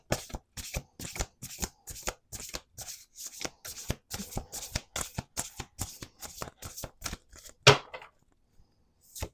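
A deck of cards is shuffled in a steady run of crisp, rhythmic snaps and riffles, close up, ending with a final riffle and a few soft taps.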